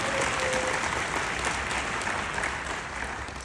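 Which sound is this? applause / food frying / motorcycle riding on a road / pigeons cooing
applause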